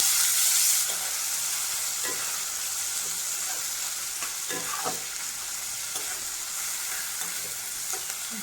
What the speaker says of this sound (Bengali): সব কিছু আমার ভালো মতো ভাজা হয়ে গেছে